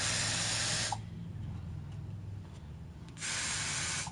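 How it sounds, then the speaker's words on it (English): Air freshener spray in apple cinnamon and powder fresh scents, let off in a shop: two steady hissing bursts, about a second each, close and loud, with a quiet gap between. "And I just started spraying apple cinnamon and powder fresh."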